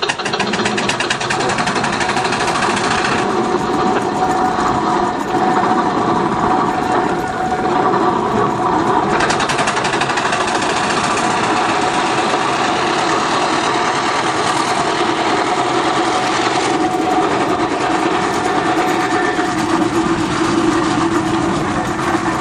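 A steam locomotive runs under way from the footplate, a loud, continuous churning roar with a fast mechanical clatter and steady rumble, close and unbroken.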